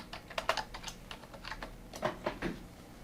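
Typing on a computer keyboard, close and quiet, with irregular bursts of key clicks and short pauses between them.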